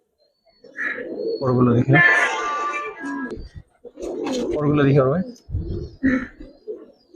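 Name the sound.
pigeons cooing in a loft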